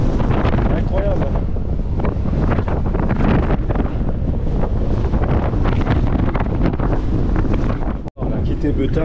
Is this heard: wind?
yes